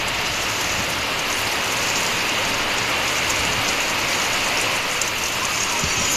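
Heavy monsoon rain pours down in Haveri, Karnataka, soaking sacks of harvested chillies, a dense, steady roaring hiss that stays loud and even from start to finish with no voices.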